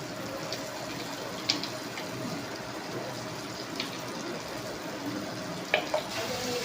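Water is poured into a pan of spiced curry with ground coriander, turmeric and chili, making a steady close rush of liquid and faint sizzling across the whole stretch, with a few small knocks.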